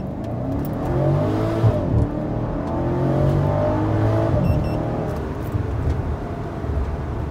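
BMW X6 M Hamann accelerating hard from 0 to 100 km/h with one person aboard, a loud sustained engine roar heard from the cabin, rising through the gears with brief shifts and no talk.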